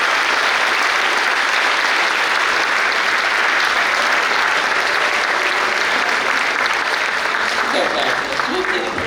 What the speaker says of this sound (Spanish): se regalen un aplauso